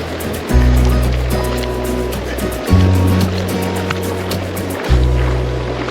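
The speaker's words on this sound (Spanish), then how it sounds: "Y la corriente está fuerte." Strong, cold river current rushing and churning steadily in the foreground, with a few heavier surges of water breaking through the continuous roar and no speech.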